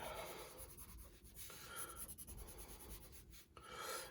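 Close, quiet scratching of a Blackwing graphite pencil on paper, with irregular strokes and short pauses, soft rasping texture throughout.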